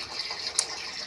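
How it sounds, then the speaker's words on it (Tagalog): Water pouring into a new washing machine, a steady broadband gush held at an even level throughout, with one brief splash or knock partway through. "naglalagay na po tayo ng tubig"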